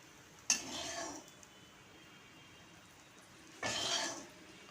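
A spoon scoops fried chilies and fish oil into a bowl, giving two short, faint bursts of metallic clinking and scraping separated by a quiet pause.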